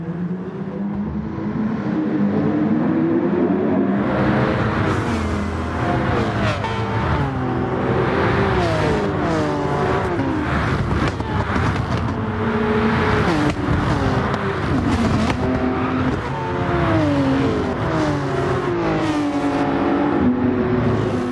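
Porsche race cars, including a 911, roar continuously through a Gran Turismo 7 race, engines revving up and down through gear changes with layered passes, loud and steady throughout.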